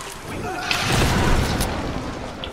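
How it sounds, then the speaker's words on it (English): A dynamite blast in the video game Tomb Raider, a rolling muffled boom that swells and fades over a couple of seconds, fairly loud. "Boom goes the dynamite."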